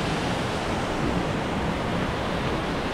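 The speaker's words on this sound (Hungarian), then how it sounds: "Gyönyörű vizesés." A constant rushing roar of a waterfall in Martvili Canyon, Georgia, broad and unbroken, with no voices.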